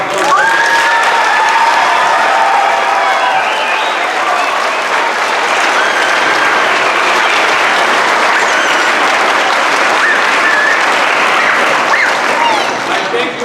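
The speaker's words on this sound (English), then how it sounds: "is a great round of applause for what a great job our folks did" Sustained audience applause fills a school auditorium after a fourth grade class presentation, dense steady clapping holding loud and even for the whole stretch with a few faint voices mixed in.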